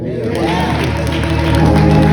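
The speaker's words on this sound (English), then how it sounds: "Give a warm hand clap for the Lord." Church congregation applause, a dense wash of hand clapping that swells slightly over a couple of seconds.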